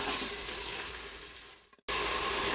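Two finely chopped onions sizzle and fry steadily in an Instant Pot, a continuous bright hiss that fades slightly before a brief cut to silence, then resumes at full strength.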